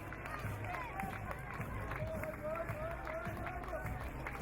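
Crowd clapping for a local strongman during a truck pull at a strongman championship, a dense rhythmic clapping and cheering mass, loud and steady, with a commentator talking over it.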